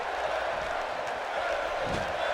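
Steady roar of a wrestling arena crowd in WWE 2K18, a broad continuous cheer filling the space with no single voice standing out, holding at an even level throughout.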